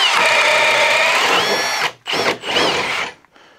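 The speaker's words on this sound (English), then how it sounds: "now gonna move on to the Spider 1-inch boring bit" Cordless power drill driving a Spider 1-inch boring bit through wood, a loud whining motor run followed by a short cutout gap, a brief burst, and a trailing spin-down.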